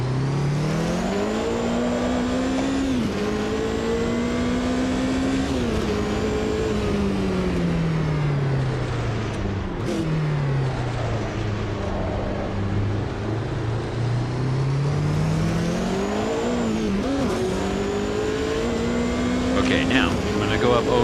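A race car engine in a sim racing game near Eau Rouge sings continuously, its pitch rising and dipping through gear changes and braking, while someone talks over it.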